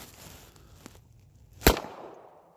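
A single loud shot from a Hi-Point .45 ACP pistol fired at a can outdoors. A sharp crack rises above quiet background sound and decays quickly.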